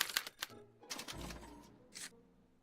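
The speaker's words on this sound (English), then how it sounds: "they're relayed to this special typewriter, which prints out a punch card that represents the subject's mind map" A special typewriter in the Back to the Future game clacks out a punch card, a few sharp irregular keystrikes and mechanical clunks with a short whirring stretch, quiet and close.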